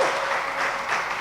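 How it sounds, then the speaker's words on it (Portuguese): Church congregation clapping together during a worship service, a dense, steady wash of applause filling the room with no voices standing out over it. "aplauda ao Salvador, aplauda ao Senhor"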